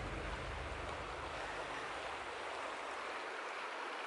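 Water of a creek rushes steadily and close by, a broadband wash without pauses, with no voices.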